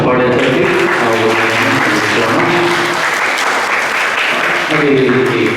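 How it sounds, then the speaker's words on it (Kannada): A church congregation at Holy Mass breaks into loud, sustained applause, a dense wash of many clapping hands that carries on evenly throughout, with a voice speaking over it. "ಅವರಿಗೆ ಜೋರಾಗಿ ಚಪ್ಪಾಳೆ ತಟ್ಟಿ ನಾವು"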